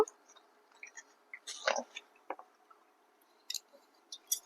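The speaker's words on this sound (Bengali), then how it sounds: "এই সময় উনুনের আঁচটা কম রেখে বড়িগুলোকে ভাজবো" Lentil dumplings (bori) frying in hot mustard oil in a kadai over low heat, giving faint, scattered soft sizzles and squishy pops that come in short bursts with quiet gaps between.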